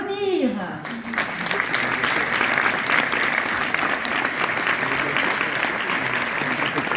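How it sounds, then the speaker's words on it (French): Audience at a cultural season launch in Saint-Chamond breaking into loud sustained applause, dense clapping from a crowd throughout, preceded by a brief voice at the start. "Alors on peut s'applaudir."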